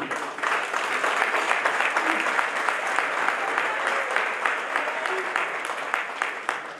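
Sustained applause from an audience filling a hall, dense and steady for the whole stretch with a few louder individual claps standing out near the front.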